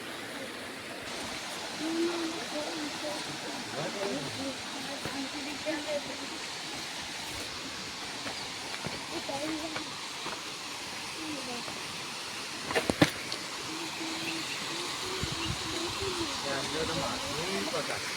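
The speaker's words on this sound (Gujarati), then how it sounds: "તો ધરેડાનો ધોધ બતાવી દઈએ આપણે પબ્લિકને." Dhareda waterfall, the source of the Saraswati river, falls into a deep pool and gives a continuous, moderate rushing roar while people talk over it.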